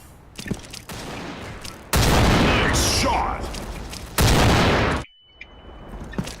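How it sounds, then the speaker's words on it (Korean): A flashbang grenade in Counter-Strike Online 2 detonates as loud, harsh blasts, followed by a sudden drop to near silence and a thin, high ringing tone. "섬광탄 투척!"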